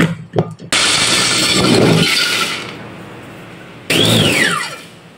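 A kitchen grinder cracks a cup of soy nuts or peanuts, a loud gritty whir that starts suddenly, runs about two seconds and fades, then cuts back in with a short rising-falling whine, after a few faint knocks.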